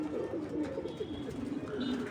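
A flock of pigeons being fed coos continuously in low, rolling calls nearby, with faint chirps and a murmur of voice in the background.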